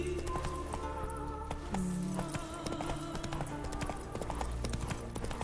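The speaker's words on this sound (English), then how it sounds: "Horsey? Hi, Roach" A horse's hooves clip-clop steadily in The Witcher 3 game on PC, a close, regular trotting rhythm over quiet background game ambience.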